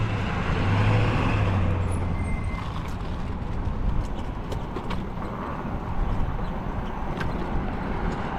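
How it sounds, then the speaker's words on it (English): Road traffic rolls past on a wet street during a food delivery ride, a steady close wash of tyre and engine noise that swells and fades over several seconds, with no talk. "go around this traffic"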